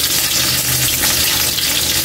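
Ginger and garlic sautéing in a hot pan, a loud, dense, steady sizzle with crackling oil close up, no voices.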